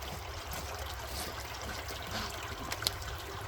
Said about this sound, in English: my beautiful wife filling up some water